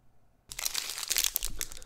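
Crinkly plastic wrapper of a Perfection Bar Crunchy protein bar being handled in a hotel room, a close, loud burst of crackling and rustling that starts abruptly and continues for over a second.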